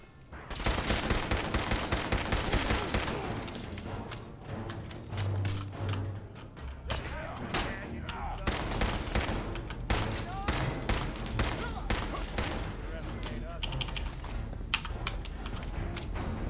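Rapid bursts of gunfire from a gun in the video game Fallout 4 crackle densely and loudly throughout, with brief pauses between volleys over a steady game background.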